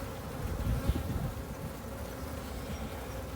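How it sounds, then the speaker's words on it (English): Honeybees buzzing in a packed, opened hive during an inspection: a dense, continuous low hum, close and steady, with no voices. "we're in Michaela's hive. It's packed"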